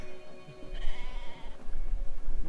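Sheep bleating in the video game Brothers: A Tale of Two Sons, a wavering mid-pitched bleat heard over a steady game ambience with low rumbling noise.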